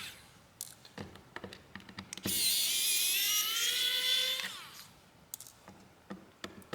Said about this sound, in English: The longest part of this probably is just taking out the screws